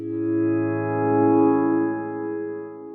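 A sustained synth pad chord with rich harmonics swells gently and lingers with a smooth plate-reverb tail, no voices.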